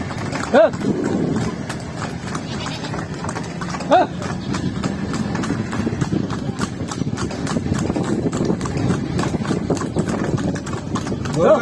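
Steady, close clip-clop of hooves from a horse drawing a tomtom carriage along a village lane, a brisk, even beat running throughout beneath continuous talk from nearby people.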